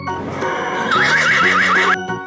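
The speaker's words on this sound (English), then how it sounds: "Horse." A horse whinnies loudly and close, a single long neigh with a wavering, rising and falling pitch and no other sounds around it.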